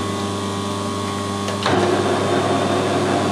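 A metal lathe turning at 90 RPM takes an interrupted cut of half a millimetre on a crank balance weight, giving a steady mechanical whir with a tonal hum that grows louder and rougher partway through as the cut bites.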